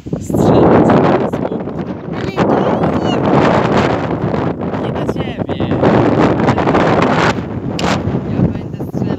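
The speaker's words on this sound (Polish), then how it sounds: "mocny wiatr się zrywił" Strong, gusty wind buffets an outdoor scene during a day of archery, roaring loudly and continuously over the microphone while someone speaks briefly in Polish.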